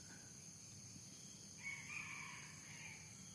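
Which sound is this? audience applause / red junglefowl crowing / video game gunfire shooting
red junglefowl crowing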